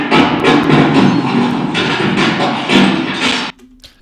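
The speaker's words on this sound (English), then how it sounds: "a kind of muffled echo." Voice run through a Hitfilm cathedral effect for a muffled hallway echo, dull and smeared in irregular bursts for about three and a half seconds, then cutting to a faint tail.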